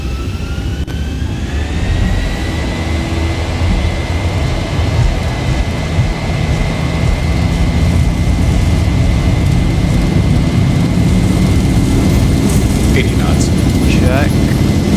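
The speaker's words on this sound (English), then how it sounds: "Engines stable, full power." Boeing 737 jet engines at full takeoff power in a flight simulator game, a loud steady roar with a rising whine throughout, with brief chirps near the end.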